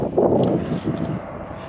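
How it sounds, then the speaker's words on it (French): Wind blowing across an open rapeseed field at fertilizer spreading time, a loud, gusty rumble buffeting the microphone, with no talking. "j'espère que le vent ne dérange pas trop, parce que j'avais pas vu, il y a un petit peu de vent quand même"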